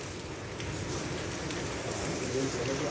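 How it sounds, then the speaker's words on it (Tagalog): Heavy rain pours down suddenly during a thunderstorm, a dense, even hiss of drops on surfaces that fills the scene, loud and close and steady throughout. "Biglang bumuhos yung ulan."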